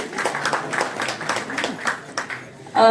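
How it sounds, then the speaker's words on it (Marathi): An audience at a stage event for a Marathi play claps steadily, with a moderate rhythmic patter of many hands. The clapping fades near the end as a voice comes in. "जोरदार टाळ्या झाल्या पाहिजेत"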